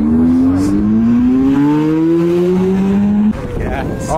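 A Lamborghini Aventador accelerates hard in a sustained pull, its engine note climbing steadily with a squeal of tyres, loud and close, while people chatter over it.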